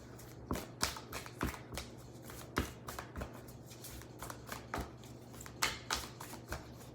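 Tarot cards are shuffled in a quick, uneven run of crisp riffling slaps and snaps, close and fairly quiet, with no talking.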